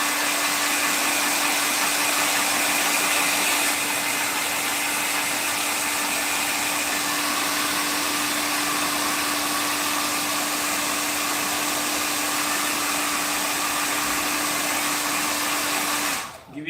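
A hair dryer blows air around a blade: a steady, loud blowing roar with a constant whine, running continuously at close range with no talk, then cutting off abruptly at the end.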